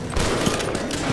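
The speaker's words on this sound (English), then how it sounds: "Nice shooting, Louis!" Rapid automatic gunfire from the video game Left 4 Dead 2, a dense, loud, continuous burst of shots with no clear gaps between them.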